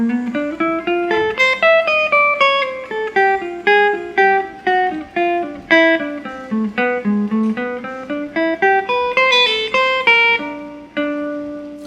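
Guitar plays a jazz line slowly, a clear single-note melody of plucked notes in an even, deliberate rhythm, each attack ringing briefly before the next, close and solo with no talking.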